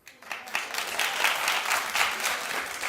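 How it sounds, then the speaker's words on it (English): Studio audience on a daytime talk show bursts into sustained, dense applause that swells quickly and holds steady for a few seconds. "Clap because you mean it."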